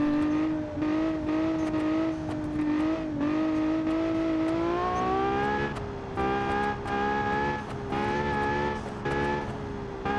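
Rear-engine super SUV in the Automation racing game laps a test track in sport mode, its engine droning steadily and rising in pitch through gear changes, with repeated upshifts and continuous loud drive.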